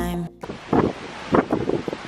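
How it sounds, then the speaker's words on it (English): Strong wind at the coast on Maui buffets the microphone in loud rumbling gusts, rising and falling in bursts, after a short stretch of music at the very start; no speech. "It's so windy."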